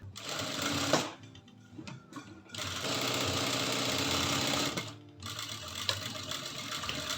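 Sewing machine stitching a shoulder seam on a drawstring gown, close and fast-running in long bursts with short pauses between runs.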